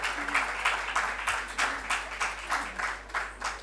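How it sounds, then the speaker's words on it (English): Audience applause for a guest at a book launch, moderately loud rhythmic clapping in regular bursts over a steady low hum, somewhat sparse and distant. "A very big round of applause for him."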